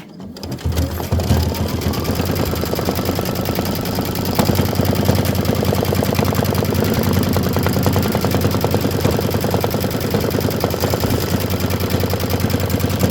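An embroidery machine stitches a white satin outline on a bench pillow, running a fast, even mechanical rattle of needle strokes close by after a brief start, steady and loud throughout.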